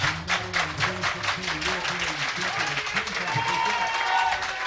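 A crowd applauds at an archery World Cup compound final in Antalya, 2018, with loud, rhythmic clapping in steady beats throughout while a commentator talks over it.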